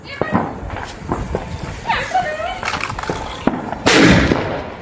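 Diwali firecrackers set off outdoors near a village, with one loud sharp burst near the end and smaller pops scattered among several people talking and calling out nearby.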